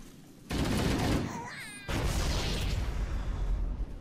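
A grenade blast in Halo's "pull the plug" mission bursts loudly at once into a sustained roar of explosion and gunfire, then a second heavy blast rolls on with broadband rumble to the end.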